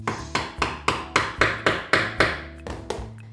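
Hammer blows strike the nailed back panel of a wardrobe being pried loose, about a dozen sharp, evenly paced knocks with a woody ring, close and loud, no voices.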